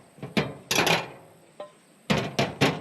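A fastener is driven through metal into wood on a post frame building, heard as several sharp close impacts in two bursts separated by a short quiet gap.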